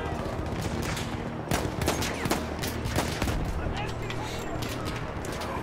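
Battlefield 1 video game gunfire, with a dense, continuous battle din of rapid shots and sharp cracks layered over constant background noise, moderately loud throughout.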